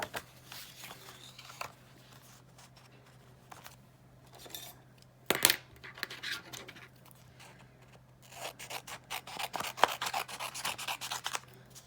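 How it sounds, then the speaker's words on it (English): An adhesive sheet is trimmed to fit cardstock in a papercraft project, giving close-up rubbing, scraping and rustling bursts of paper handling, quiet at first and busier toward the end. "I'm going to take an adhesive sheet, and I'm going to trim this down to fit on top"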